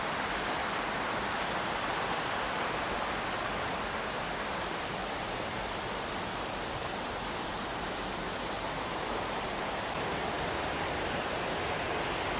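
Steady broadband roar of a waterfall and rushing creek feeding the mill pond of a water-powered grist mill, loud and continuous throughout with no pauses or voices.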